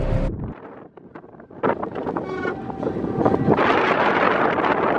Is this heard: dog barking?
no